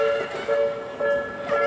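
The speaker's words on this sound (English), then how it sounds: "Train coming." Train in Tokyo drawing near, a steady tonal hum with faint pulsing, moderately loud, no talk over it.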